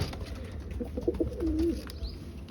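Pigeons sitting in pairs give soft, low cooing calls, a few short coos and then a longer rolling one, fairly close against a steady background hum.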